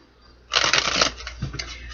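A deck of cards is shuffled close up: a sudden riffle of rapid, crisp flutters that runs about a second and then eases into lighter shuffling with no talk.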